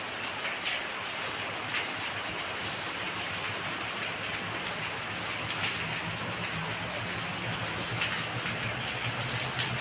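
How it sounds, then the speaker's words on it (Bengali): Steady rain falls outside a balcony during a spell of heat, a dense, even hiss with scattered drips and splashes that holds constant throughout, with no one talking. "দেখায় সুন্দর বৃষ্টি হচ্ছে।"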